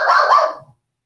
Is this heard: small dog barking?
yes